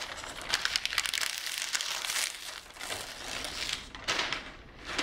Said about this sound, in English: you're just going to pick up your paper and pull it apart again